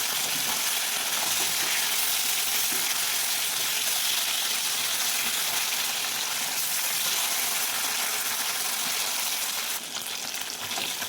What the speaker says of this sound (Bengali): মাছটাকে উল্টে নেবো উল্টে আর এক পিট ভেজে নেবো ভালো করে